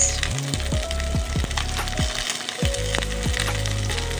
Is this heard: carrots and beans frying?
yes